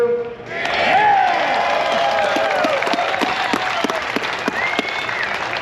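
Crowd at a Tri-Five Nationals car show breaking into sustained applause with some cheering, swelling after a brief quiet start and holding steady at moderate distance throughout.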